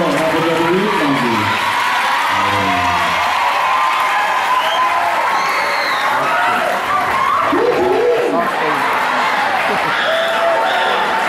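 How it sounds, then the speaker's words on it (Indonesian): School audience at a junior high in Jakarta clapping and cheering loudly throughout, a dense crowd roar with laughter and voices mixed in. "Ayo tepuk tangan."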